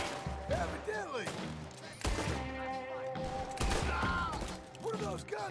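Gunshots in the Red Dead Redemption 2 western video game, several heavy booming reports spaced a second or two apart over tonal game music and mechanical clicks, with faint voices in the background.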